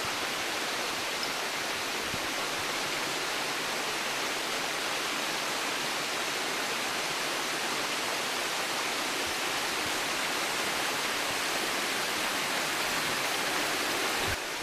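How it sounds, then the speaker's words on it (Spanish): Small mountain cascade in Vega de Pas, a dense steady rush of falling water that stays constant and loud throughout, broadband and unbroken with no voices. "esto de las cascadas estas, churratas o churrones, depende la cantidad de agua, pues de lo que llueva"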